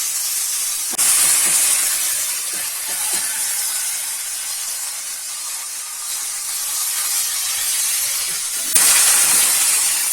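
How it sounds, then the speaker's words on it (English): Two cups of rice go into hot oil in a frying pan for chicken garlic mushroom fried rice, raising a steady, fairly loud broadband sizzle and hiss that swells at the start and again near the end. "Now I'm going to add 2 cups of rice."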